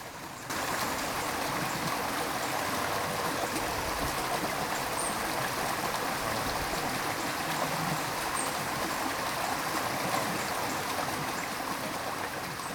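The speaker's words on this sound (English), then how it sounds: "बर्फ पिघल रही है. नदी बन गई है." Meltwater stream from melting snow flowing steadily in a natural landscape, a continuous broadband rush and gurgle that stays at an even level throughout, close by, with no voices.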